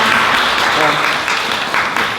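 Loud, dense applause fills a Jeju local-creators stage event, a steady wash of clapping from the audience that runs without a break.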